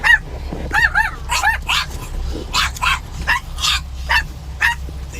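Barking from a dog near a truck stop, about ten sharp barks and yips in an uneven rhythm, close and loud over a low engine-like hum.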